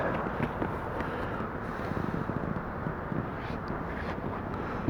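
Steady outdoor wind buffets the microphone with a low, continuous rumble and gusty flutter, loud and close, while a garden trailer is assembled outside.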